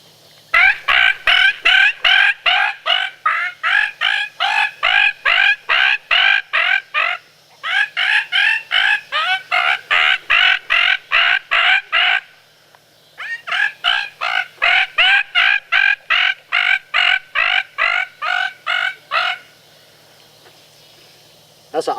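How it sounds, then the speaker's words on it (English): A hunter blows a bird distress predator call on a 2-reed fang cut call, loud rapid squealing bursts in long pulsing runs with two brief pauses, close and alone. "That's an awesome call for bobcats, fox, and coyotes, in particular bobcat and fox. Bird distress."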